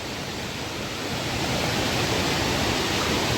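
Floodwater rushes after heavy rain in a steady, broad roar that stays close and loud throughout, with no breaks and no voices.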